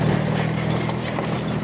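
Horses ridden by a crowd of riders at a quinceañera celebration in Miquihuana, Tamaulipas, hooves clip-clopping in a dense, continuous patter on hard ground, loud and close, with a low hum and murmur of people underneath.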